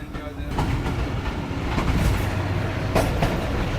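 A passenger train runs along a curve near the Afghan–Pakistan border toward Qila Abdullah station, with a heavy, steady rumble and rhythmic wheel clatter and occasional clanks, while someone talks over it.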